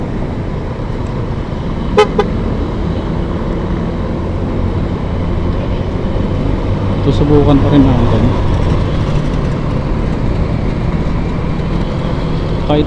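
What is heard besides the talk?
road traffic and wind noise while driving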